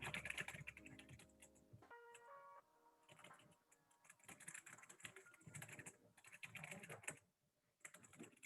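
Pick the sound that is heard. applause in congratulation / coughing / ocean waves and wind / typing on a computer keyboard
typing on a computer keyboard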